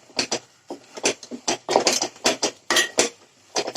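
Rice flour being stirred into a pot with a utensil while cooking a savory pitha dish: irregular scraping and clattering strokes of metal against the pot, close and moderately loud, with no talking.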